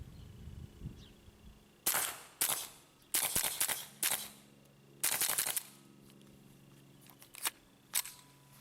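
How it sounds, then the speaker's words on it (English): A suppressed Ruger Charger pistol fires standard velocity ammunition in a string of sharp, muted cracks. Roughly nine irregularly spaced shots stand out against a quiet outdoor background, each with a short decaying tail. "this is what it sounds like with the suppressor with standard velocity ammunition."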